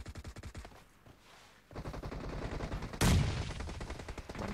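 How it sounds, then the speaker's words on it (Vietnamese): Gunfire in the mobile battle royale game PUBG Mobile during an eight-versus-eight team deathmatch, rapid rattling automatic bursts that start faint and grow louder, peaking in a sharp volley. "Bắn quá đã luôn."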